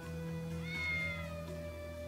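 Cats meowing in the video game Infinite Undiscovery, one clear drawn-out meow rising in the middle over a steady hum of game music and ambience.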